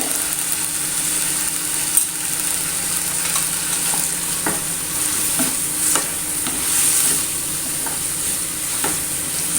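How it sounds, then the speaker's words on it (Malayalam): A pan of frying food has turmeric and chili powder stirred through it, giving a steady close sizzle with repeated scraping strokes and a few light clinks, and no voices. "നല്ലോണം മിക്സ് ചെയ്തെടുക്കുക."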